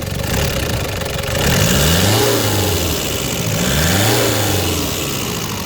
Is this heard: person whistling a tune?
no